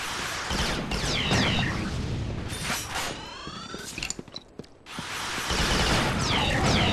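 Loud, dense explosions and blasts from the video game Resistance: Fall of Man roar almost continuously, dip briefly into a quieter gap with scattered pops near the middle, then surge back at full strength.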